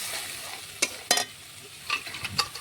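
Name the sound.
chopped tomato and chili powder stirred with spices in pan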